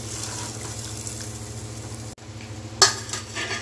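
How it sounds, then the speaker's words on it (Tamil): A pot of kodum puli fish curry bubbles and simmers steadily, with a soft continuous sizzling hiss and a brief clink of cookware near the end. "இப்போ வந்து குழம்பு நல்லா கொதிக்குது"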